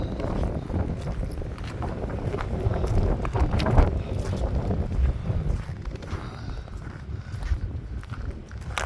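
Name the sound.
wind blowing outdoors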